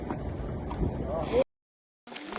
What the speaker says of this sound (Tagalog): Ito ang motor, oh.